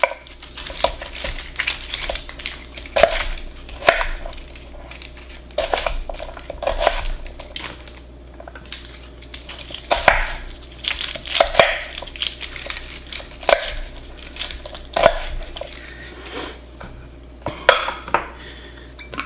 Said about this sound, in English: I'm just going to sort of rough chop this